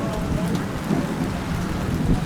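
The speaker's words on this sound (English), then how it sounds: "It's raining. Rain just came down. It's storming right now." Heavy rain pours steadily during a thunderstorm in Nicaragua, a dense close hiss with low rumbling underneath, continuous and fairly loud, with no talk over it.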